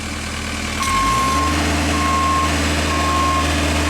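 A Genie lift drives forward: an engine or motor hum rises and holds steady while a loud motion alarm beeps in regular, evenly spaced pulses close by.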